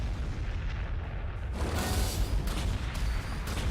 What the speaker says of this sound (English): That's a lot of artillery.